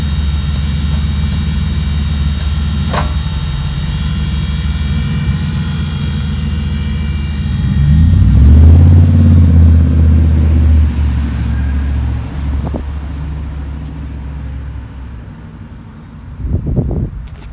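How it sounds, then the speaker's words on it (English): A tuned Ford F-150 Lightning electric pickup, built for over 1000 hp, drives off: a steady low rumble and whine swells to a loud close pass around the middle, then recedes into the distance. "so Russ and Chris just took off with the Lightning"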